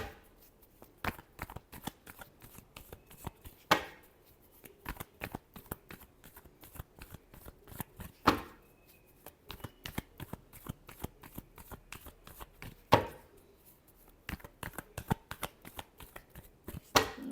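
Tarot cards shuffled by hand in repeated quick riffling bursts with short pauses between, close and fairly quiet, with no talking.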